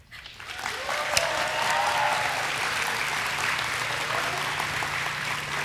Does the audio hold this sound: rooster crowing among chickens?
no